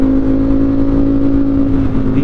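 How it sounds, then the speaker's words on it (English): A Ducati Streetfighter V4 motorcycle pulls hard on a highway, its engine holding a loud, steady high-revving drone with a strong buzzing tone and wind rush, close and continuous with no speech. "This accelerates pretty hard."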